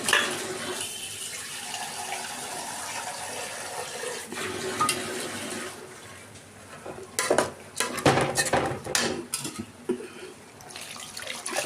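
Water splashes into a pot of washed rice stirred into fried masala for a non-vegetarian khichuri, a steady pour with clinks of utensils and pot clatter that grow louder toward the end.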